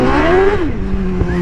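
A Yamaha R6 sport motorcycle accelerates hard on a rough road, its engine loud and close, the pitch rising and then dropping as the rider shifts.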